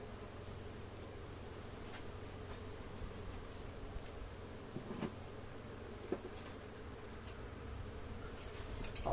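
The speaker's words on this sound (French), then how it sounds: "Donc les abeilles commencent à rentrer, c'est normal." Honeybees return to a hive during a transfer from a nucleus box, giving a faint, steady buzzing hum throughout with a few small clicks.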